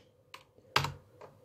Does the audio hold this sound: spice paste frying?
no